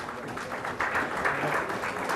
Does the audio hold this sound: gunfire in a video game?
no